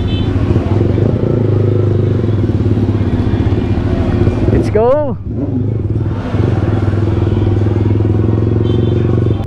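A Yamaha MT-09 motorcycle's engine rumbles loudly up close, then revs in a rising whine as the bike rides off, with the deep engine drone continuing after; a voice speaks briefly over it.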